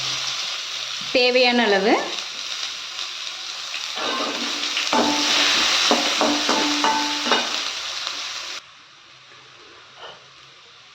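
Onion frying in a pan for curd semiya, a bright close sizzle with stirring scrapes, briefly overlaid by someone speaking, then dropping to a quieter simmer near the end.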